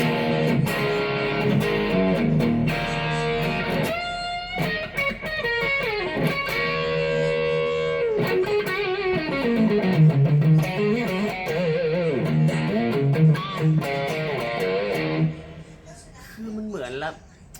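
A loud, heavily distorted electric guitar through a Kemper Profire amp modeler plays chugging riffs and ringing sustained notes without a break, then cuts off near the end.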